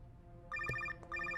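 A telephone rings in a tense thriller scene: two bursts of a bright, warbling electronic ringtone with a short gap between them, moderately loud, no voices over it.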